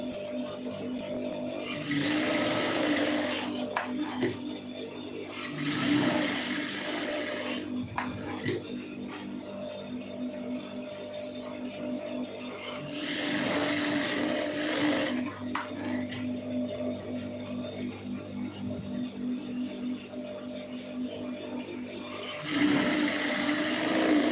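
Sewing machine stitching blouse pieces together, with a steady mechanical whir that runs in several long bursts and stops briefly between them, close by, with no talk.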